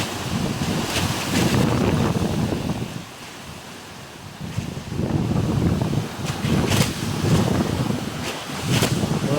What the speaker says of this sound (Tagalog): Lakas na masyado ang hangin doon